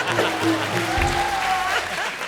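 A studio audience at a comedy show breaks into loud, sustained applause that fills the room, with voices and cheering mixed into the clapping.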